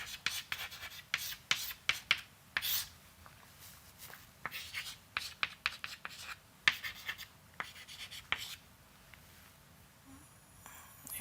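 Scratchy handwriting strokes on a lecture board come in quick, uneven bursts of taps and scrapes, fairly close and with no voice over them.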